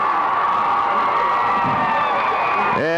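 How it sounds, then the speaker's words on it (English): A crowd at a 1994 high school football game, Lakes vs Bessemer, cheers loudly and continuously from across the field, a sustained roar with shouts that fades out at the end. "a big cheer from across the way"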